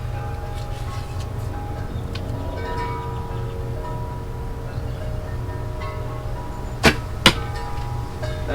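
Near the end, an arrow loosed from a KainoKai recurve bow gives two sharp, sudden snaps about half a second apart, set over steady outdoor traffic rumble.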